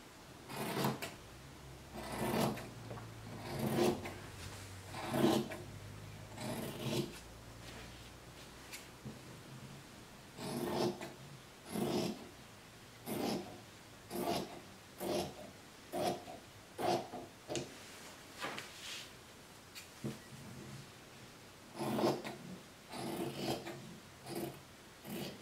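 Scissors cut through fabric for a child's Snow Queen costume apron, a series of soft rasping snips in an irregular rhythm, close and quiet.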